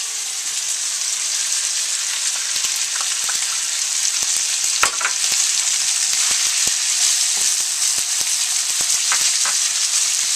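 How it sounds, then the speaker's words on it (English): Mushrooms fry in a hot pan for a ramen stir fry, making a loud, dense, continuous hiss with scattered crackles and pops and an occasional spatula clack, up close and uninterrupted. "Then we'll put in our mushrooms."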